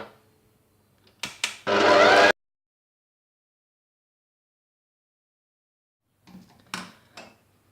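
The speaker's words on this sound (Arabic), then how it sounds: "ونستمروا في العجن" An electric stand mixer kneads chocolate brioche dough in a short loud whirring burst. Near silence follows, then faint clinks and knocks from the mixer or bowl.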